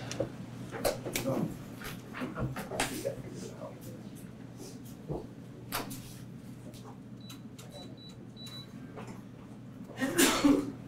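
A single sneeze in a courtroom during a murder trial, a short sharp burst standing out against quiet room noise, with scattered shuffling and brief voices around it.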